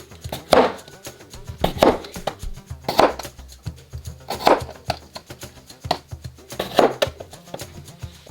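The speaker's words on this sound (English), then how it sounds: "cut up our cucumber" A knife chops a cucumber for a school lunch box, about six crisp, evenly spaced cuts on a board, close and clear with quiet gaps between them.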